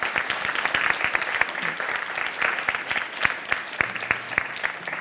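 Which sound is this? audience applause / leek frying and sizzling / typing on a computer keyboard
audience applause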